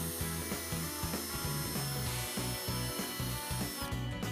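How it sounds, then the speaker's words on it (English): A power drill running in reverse with a 1/8 inch bit, working through the gel coat and fiberglass of a boat while a wakeboard tower is installed: steady, close whirring and grinding with rhythmic low pulses, no talking. "To drill the holes, begin with a 1/8 inch bit and set the drill to reverse."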